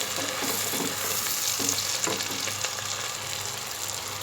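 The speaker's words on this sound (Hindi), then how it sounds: "प्याज के साथ हम टमाटर को भूनेंगे अच्छी तरह।" Tomatoes and onions fry steadily in a pan, a continuous close sizzle that holds at an even level throughout with faint stirring clicks and no voices.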